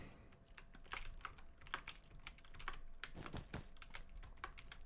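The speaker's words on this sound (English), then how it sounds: "Is my keyboard that loud?" Rapid clicking of computer keyboard keys during a Minecraft building session, close and fairly quiet, with irregular bursts of keystrokes and no speech.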